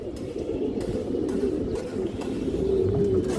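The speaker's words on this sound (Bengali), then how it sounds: "এই দেখেন অনেক সুন্দর কবুতর মাসাল্লাহ" Pigeons cooing in a loft, a silver female among them, with a steady low murmur of overlapping coos running throughout at moderate loudness; no talk.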